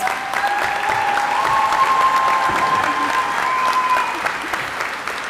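A commencement crowd gives another round of applause for a speaker, a broad, steady wash of clapping lasting several seconds with a faint tonal hum running underneath.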